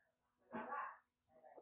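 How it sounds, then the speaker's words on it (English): A dog barks twice, faintly and from a distance, the first bark longer and the second shorter, with no voices nearby. "Oh yeah, she had a dog."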